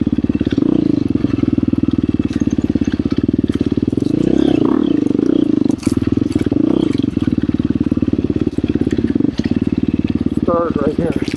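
KTM 350 XCF Factory Edition dirt bike riding singletrack in third gear, its engine buzzing steadily and close with rising and falling revs, under a rider's talk.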